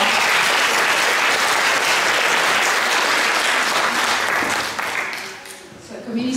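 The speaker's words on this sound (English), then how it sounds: "a round of applause for Isabelka" Loud, dense audience applause at a children's graduation performance, a sustained roar of clapping and crowd noise that fades toward the end as voices come through.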